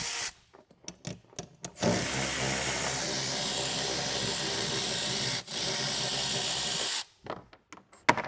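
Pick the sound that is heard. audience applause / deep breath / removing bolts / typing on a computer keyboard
removing bolts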